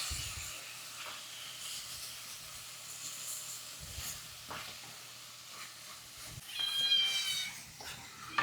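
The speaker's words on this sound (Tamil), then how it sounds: "இது நல்லா வதங்கட்டும்." A pan sizzles softly and steadily as ingredients sauté for Chettinad prawn thokku in a home kitchen. The quiet frying hiss carries on throughout, and a cat meows briefly near the end.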